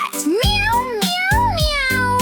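A cat meow sung in a cheerful children's phonics song, repeated tuneful meows over bright musical backing, loud and close, forming part of the melody.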